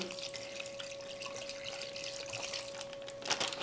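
Spiced Mexican-style chicken marinade pours steadily from a second bag, a continuous liquid trickle and splash that runs throughout, with a brief louder splash near the end and no talking.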